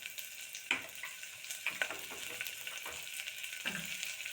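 Pumpkin pieces for pumpkin soup dropped into a hot pot, with a steady close sizzle of frying and a few sharp bursts as the pieces land, with no talking.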